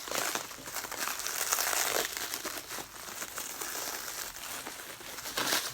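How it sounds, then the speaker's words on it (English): Close, continuous crinkling and ripping of heavily taped drone packaging, with rough tearing bursts as the tape is pulled apart, no voices. "plenty of tape around it, so you might have to bear with me while I just rip it to shreds"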